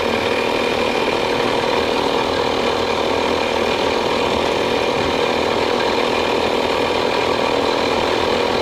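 A Suzuki-style XL moped engine drives a homemade battery sprayer vehicle, giving a loud, steady, buzzing mechanical drone with rattling that runs unbroken and close throughout, with no voices.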